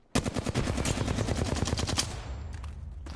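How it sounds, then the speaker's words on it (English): Rapid automatic gunfire in a video game rattles in one loud, dense burst of about two seconds, then trails off into a few scattered, fading shots. "Missed like half my shots on him."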